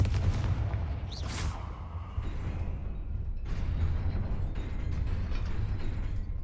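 A Confringo fire spell fired in the video game Hogwarts Legacy, heard as a sharp whooshing blast followed by booming, rumbling explosions over a low continuous game background.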